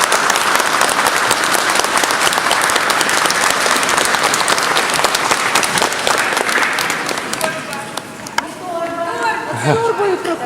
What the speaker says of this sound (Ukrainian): привітаємо артистів аплодисментами